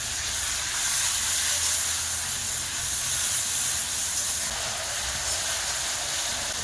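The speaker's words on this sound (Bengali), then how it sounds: "পেঁয়াজ বাটা দেব, হলুদ গুঁড়ো দেব, লঙ্কা গুঁড়ো দেব, অল্প করে জল দিয়ে মশলাকে কষে নেব।" Spice paste of ground onion, turmeric and chili powder cooks down in a pan with a little water for a hilsa fish and eggplant dish, giving a loud, even, continuous hissing sizzle that holds steady throughout without talk.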